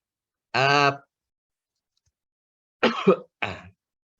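A few short, harsh coughs and throat clears, close and isolated, separated by silence, during a webinar.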